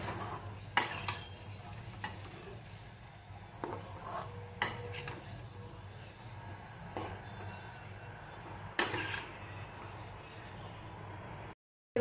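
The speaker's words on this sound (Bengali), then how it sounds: "এটা দিয়ে বেশ করে কষে নেব।" Masala for a Bengali rohu fish curry with potato and taro is stir-fried in a pan, with a steady low sizzle under scraping spoon strokes and occasional metallic clinks.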